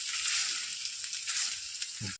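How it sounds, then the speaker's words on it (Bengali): Potatoes frying in a pan to browning, a loud continuous sizzle close up, steady until it stops suddenly, with a faint thump just before the end. "আলুটা সুন্দর করে ভেজে নিই লাল করে ভালো করে ভেজে না নিলে হবে না"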